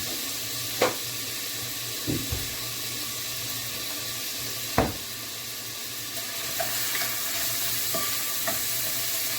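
Hot dog, onion and sweet pepper sizzle steadily in a hot pot, a constant crackling hiss, with a few clanks of a utensil stirring and scraping against the metal.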